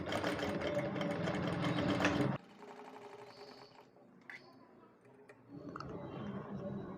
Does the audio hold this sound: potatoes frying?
no